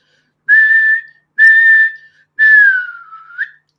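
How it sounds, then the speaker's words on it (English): Referee's whistle blowing for full time at a football match: three sharp, loud blasts, the last one longer and falling in pitch before a brief final chirp, with silence between. "The full-time whistle is here."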